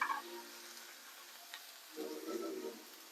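Stuffed turkey pieces filled with ricotta browning in a pan before oven baking, giving a faint, steady sizzle with a brief stirring or shifting sound partway through.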